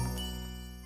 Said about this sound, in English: I can't listen to your Ring's Different Things bell right now